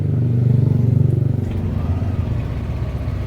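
A Yamaha NMAX scooter engine idles while warming up after sitting unused for two days with a battery problem, a steady, close, low rumble with a faint rhythmic pulse and no talking.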